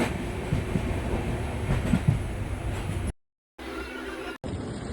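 Train ride to Kanyakumari in rainy weather, a continuous rumbling rail carriage with faint rhythmic wheel clatter, interrupted by a brief cut to near silence before the rolling noise resumes.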